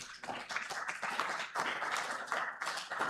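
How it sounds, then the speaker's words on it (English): Scattered clapping comes from an audience at a summit session hall as the next presenter is called to the stage. Separate claps are audible in uneven bursts, moderately close, with a quieter gap near the middle. "Let us have a big round of applause"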